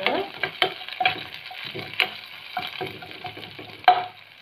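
Cumin and green curry leaves crackling in hot oil for a Tamil okra tamarind curry, with irregular spits and pops over a steady sizzle and occasional stirring knocks, close and alone.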